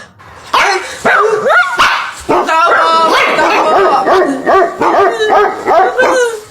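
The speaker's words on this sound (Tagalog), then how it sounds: "Nakakatakot naman yung mga tahol na aso." Several dogs bark and yip at night, loud and close, in repeated overlapping bursts with whimpering yelps, while people shout and talk over them.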